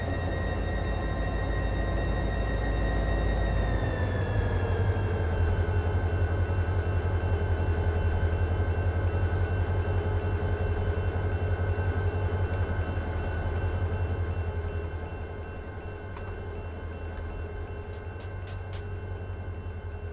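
A train in the Run 8 v2 railroad simulator, working the Edison Local on hard mode, gives off a steady, heavy engine rumble that dips in pitch after a few seconds and eases slightly quieter near the end, with no talking.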